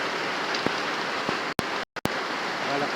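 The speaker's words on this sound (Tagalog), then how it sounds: "malakas ang ulan." Heavy afternoon rain pours down in a steady, dense hiss on surfaces, broken by a couple of brief dropouts and faint clicks, with no voices.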